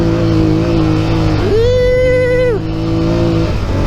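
Polaris Sportsman XP 1000 S ATV engine rumbling, then a single sharp throttle blip rising in pitch, holding for about a second, and dropping back to a loud, close idle.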